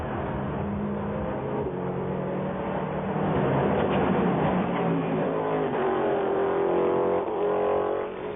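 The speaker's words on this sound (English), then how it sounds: "Wonderful raughty noise from that big Mercedes exhaust." The big Mercedes race car at the 1999 Le Mans 24 Hours blares its raspy exhaust as it accelerates, a loud, rough engine note building and sustaining throughout.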